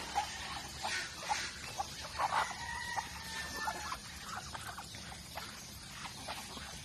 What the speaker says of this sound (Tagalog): Halo-halo yung mga manok.